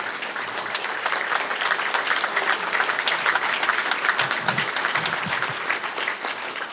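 A room of attendees at a water reclamation district gathering applauds the senior staff, producing dense, even clapping that holds steady and fairly loud for several seconds, with no voices over it.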